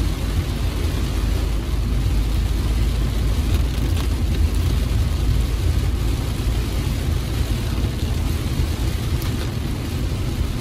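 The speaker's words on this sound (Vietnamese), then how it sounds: "đây là cơn mưa to để bắt đầu vào mùa mưa bão tháng 7 tháng 8" Heavy summer rain during the start of the July–August storm season, heard from inside a moving car: a dense, steady broadband wash of water over a low road and engine rumble, continuous and loud throughout, with no talking.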